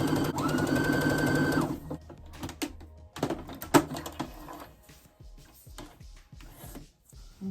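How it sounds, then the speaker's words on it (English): A sewing machine stitches the back piece of a wrap dress to the front piece at the shoulder. It makes a steady close mechanical whir for over a second, followed by scattered clicks and fabric handling. "So I'll take it and sew it."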